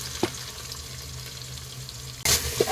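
Whole spices such as cinnamon, clove, cardamom and bay leaf crackle in hot oil and ghee for egg biryani, a steady soft sizzle with brief clatters near the start and end.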